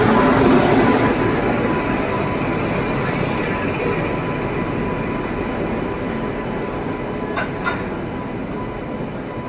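The Jan Shatabdi Express pulls out of Haridwar station with a broad, steady rumble of rolling wagons that eases slightly over time, plus a couple of brief high squeals near the end, with no clear speech.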